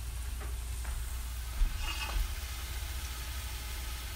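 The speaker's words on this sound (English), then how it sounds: "You can hear this sizzling." Steady, faint sizzling of meatless sapasui frying in a pan over medium-high heat, a constant hiss with a couple of soft clicks partway through.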